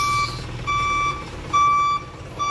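A truck's reversing alarm sounds in a steady series of loud, evenly spaced beeps over low engine rumble during a cowl replacement, with no one speaking.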